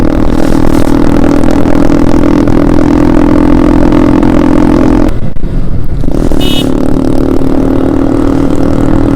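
A motorcycle exhaust while riding, in a loud, continuous, close engine drone with a steady low rumble; the roar cuts out sharply for about a second near the middle, then picks up again at full strength.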